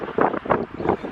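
Outdoor wind gusting against a microphone, loud rumbling buffets in a few uneven surges over about a second, with no other sounds.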